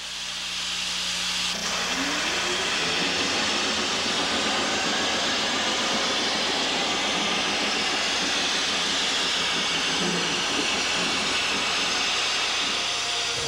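Steam locomotive 6060 hisses loudly and continuously from close by at the shops, a dense, unbroken roar of escaping steam with a low rumble underneath and no talking.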